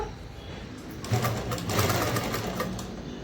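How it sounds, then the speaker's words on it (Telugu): A home sewing machine stitches joined pieces of cloth together, folding the fabric as it goes, with a steady, fast mechanical whirr that picks up and grows louder partway through. "మీకు ఇంట్లో మిషన్ ఉన్నదంటే కనుక ఈజీగా మీరు ఇలా అయితే కనుక కుట్టుకోవచ్చు"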